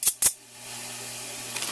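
Two sharp metallic snips close together at the start from a very early, old pair of scissors, then a quiet steady hum.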